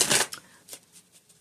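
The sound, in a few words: shuffling a deck of cards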